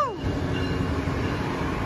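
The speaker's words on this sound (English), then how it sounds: "now leaving LA is Surfliner train 784, southbound to San Diego" Amtrak Pacific Surfliner train 784 with an SC44 locomotive departs Los Angeles Union Station southbound, a steady loud rumble of engine and rolling cars with a falling horn-like tone at the start.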